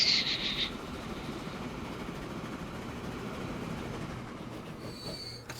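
A train in a tycoon video game rumbles steadily along the rails with a continuous low rolling drone. A brief high squeal comes at the start and a faint metallic whine near the end, with no talking.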